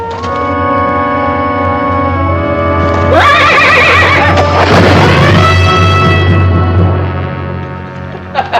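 Horse in a western setting lets out a loud, close whinny that rises and trembles over several seconds, above a steady low background hum and faint hoofbeats.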